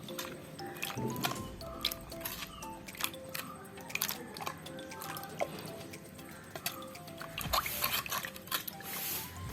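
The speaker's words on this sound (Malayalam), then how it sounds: "ഇനി ഇതെല്ലാം ഒന്ന് ഒരു കയ്യിൽ കൊണ്ട് നമുക്കൊന്ന് മിക്സ് ചെയ്യണം" Wet squishing and dripping as coriander powder, curry leaves and water are mixed by hand for a shark fish curry, a steady close, soft liquid churning with small splashes throughout.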